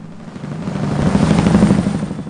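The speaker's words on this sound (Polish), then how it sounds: "Aha, helikopter." Helicopter in the Medal of Honor Warfighter campaign, a steady low rotor thrum and engine whine that swells louder over a couple of seconds, with no talking.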